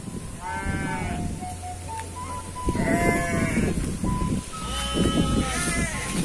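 Several sheep bleat on a village livestock farm in Banten, Indonesia, with repeated wavering calls close by over a soft outdoor background.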